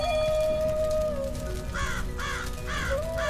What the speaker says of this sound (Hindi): अचानक टुनटुनी चिड़िया को एक कौवे की आवाज आती है।